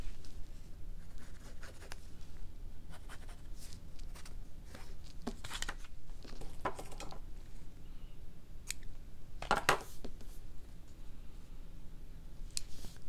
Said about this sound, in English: And I'll cut out my fabric.